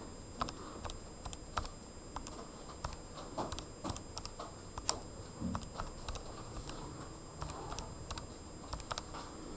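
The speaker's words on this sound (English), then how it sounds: "we're going to type in the p of x equation that's kind of in the middle of your page" Someone types an equation on graphing calculator keys, producing a quick irregular run of close, light plastic clicks and taps over a faint steady background hum, with no talking.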